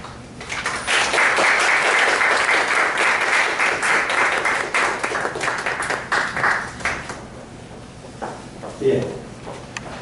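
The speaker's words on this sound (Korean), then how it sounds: "큰 박수로 환영해 주시기를 부탁드리겠습니다." An audience at a lecture hall claps loudly to welcome a speaker, a dense sustained applause that fades after several seconds into scattered claps and rustling.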